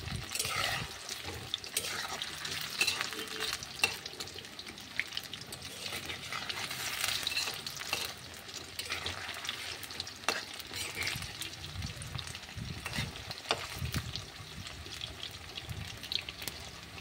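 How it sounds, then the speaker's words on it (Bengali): Marinated chicken pieces fry in oil for chilli chicken, a close, steady crackling sizzle with frequent stirring scrapes and bursts of spattering, quiet overall and without talk. "এই যেরকম লাল লাল করে ভেজে নেবো চিকেনগুলো, ভাজা হবে।"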